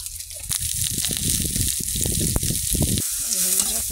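Panch phoron whole spices dropped into hot oil in a kadai already holding garlic, onion and green chillies, giving a steady close crackling sizzle with sharper pops, a faint voice underneath.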